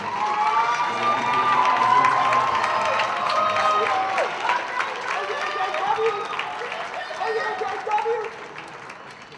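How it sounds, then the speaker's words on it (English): An audience at a school pageant applauds and cheers for eight contestants, a dense sustained wash of clapping with whistles and shouts that continues loudly throughout. "give a round of applause to our 8 contestants from Mr. VHS Public 22."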